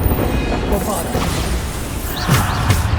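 A Bombarda spell explodes in the video game Hogwarts Legacy, giving a loud blast with crashing, whooshing bursts over a busy, dense combat soundscape.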